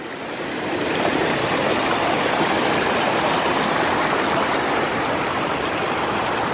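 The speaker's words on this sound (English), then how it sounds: "And so now we just cross a cheeky little waterfall," A small waterfall and stream in the Batad rice terraces of the Philippines, a steady loud broadband rush of falling and flowing water heard close up and unbroken throughout, with no voices.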